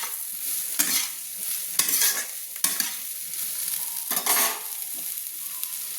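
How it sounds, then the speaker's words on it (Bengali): Soybean chunks fry lightly in a pan, a bright continuous sizzle broken by four or five loud spatula scrapes and stirring strokes, with no talking. "সেগুলো আমি একটু ভেজে নিচ্ছি, হালকা করে ভেজে নিচ্ছি"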